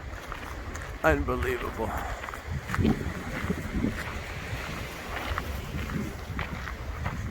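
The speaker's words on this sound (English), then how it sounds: "Man, yeah, the wind." Wind blowing outdoors along a road in southern Spain where trees have come down, a steady broadband rush and buffeting on the microphone throughout, with someone talking over it.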